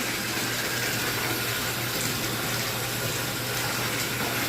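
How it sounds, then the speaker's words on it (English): Water gushes steadily from a tap into a jacuzzi tub in a hotel room, a loud, continuous splashing fill that runs unbroken throughout with no voices. "I'm just getting it filled with water"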